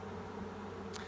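Honeybee swarm buzzing steadily at a hive as it is installed, a dense close-up hum with no talk over it.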